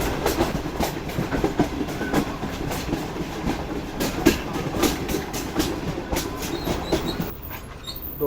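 The Pak Business Express train rolls along the rails with a steady clickety-clack of wheels over rail joints, a regular rhythm of sharp clacks above a continuous rumble that drops off toward the end.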